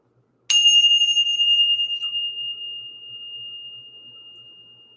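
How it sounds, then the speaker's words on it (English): A single bell is struck once and rings out alone, a clear sustained metallic tone that decays slowly over about four and a half seconds in an otherwise quiet room. "let's go ahead and ring the bell."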